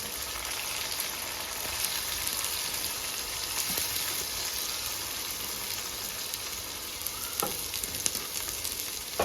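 Garlic, ginger and onion fry in a pan on a desi clay stove for Punjabi-style kadhi pakora, giving a steady, close crackling sizzle with small pops and no voices.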